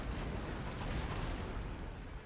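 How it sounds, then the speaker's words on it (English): A cannon volley from three sets of cannons striking a wall in the video game Fall of the Samurai, heard as a loud booming, rumbling barrage that swells and fades over about two seconds without talk. "Might not destroy this in one volley, but we probably will, actually, with 3 sets of cannons."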